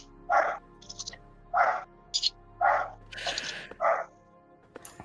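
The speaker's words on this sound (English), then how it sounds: "just my dog barking in another room" A dog barks from another room, four muffled woofs spaced about a second apart, with short higher yips between them. No one speaks.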